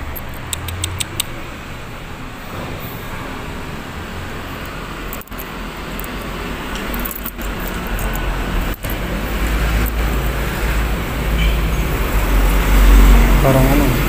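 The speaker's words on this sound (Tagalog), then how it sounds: "Kahit madaling araw na guys, yung mga truck dumadaan." Steady roadway rumble from trucks passing on a busy road before dawn in Malabon, the low engine drone growing louder toward the end.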